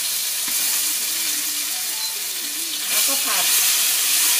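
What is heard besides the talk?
stir-frying chili, garlic and shrimp paste in a pan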